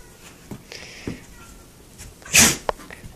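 A dog sneezes in a home in the morning, giving a quick sharp burst near the microphone after some soft snuffling and movement, while a person talks quietly nearby.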